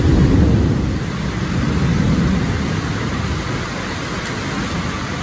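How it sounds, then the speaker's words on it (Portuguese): Heavy, steady rain roaring as a dense wash of noise, constant and loud, with no voices. "Chuva torrencial"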